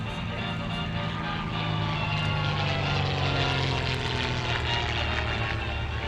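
A vintage Caudron Rafale propeller aircraft drones steadily overhead, its engine roar holding constant and loud with a slight shifting whine throughout.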